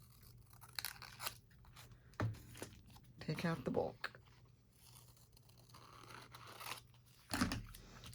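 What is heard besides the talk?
scissors cutting junk mail envelope paper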